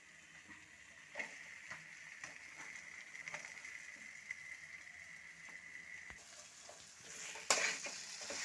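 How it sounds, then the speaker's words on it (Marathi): Vada pav potato filling frying in a pan and being stirred, a steady sizzle with repeated scraping strokes of the spoon throughout, close and alone without talk. "आता मी भाजी टाकून घेते."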